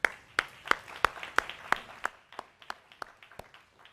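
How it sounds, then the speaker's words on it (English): Scattered clapping at a mayor's press conference honoring the city snow team, a handful of people applauding with distinct, separate claps that thin out and grow sparser toward the end. "who I want to start by giving a giant round of applause to them."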